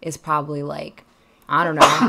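Someone sneezes from allergies: a sharp, close burst right after a short stretch of casual speech, following a brief pause.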